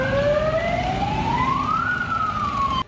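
A police car siren wails in a steady rising and falling sweep, loud and close, over a low rumble of road traffic.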